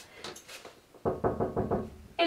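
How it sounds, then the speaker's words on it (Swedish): Knocking on a wooden door: a few soft taps first, then a firmer series of four or five distinct knocks in quick, even rhythm, close and clear, with no talking. "Jag knackar."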